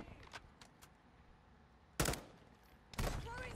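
Gunfire in Call of Duty MW2 on a hardpoint match: faint scattered shots early on, then two sharp, loud bursts of close fire, each followed by brief ringing.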